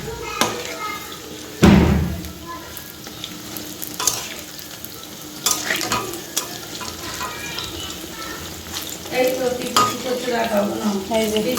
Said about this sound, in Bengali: ডোডো পেঁয়াজি ভাজছি